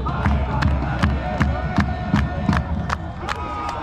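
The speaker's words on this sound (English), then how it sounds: "This is pretty common soccer chanting." Football fans at a European League of Football game between Helvetic Guards and Barcelona Dragons chant in the stadium, a loud crowd roar carrying steady rhythmic claps or drumbeats at about two per second.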